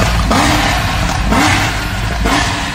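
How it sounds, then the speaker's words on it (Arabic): A car engine revving up and down in several loud, close surges with a mid-pitched rising and falling note over a steady rumble. "يا جماعة والله هذه صوت سيارته بالفيلم"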